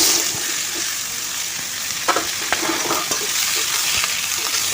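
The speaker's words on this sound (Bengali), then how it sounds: "আর ওই তেলেই আমি এখন এঁচড়টাকে একটু ভেজে নেব।" Pieces of raw jackfruit fry in hot oil left over from frying potatoes, giving a steady loud sizzle with a few soft stirring knocks.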